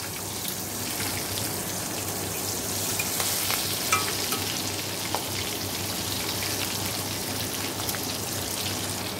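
Garlic tempering sizzles and crackles steadily in hot oil in a pan for prawn and greens, a dense close frying hiss with scattered pops.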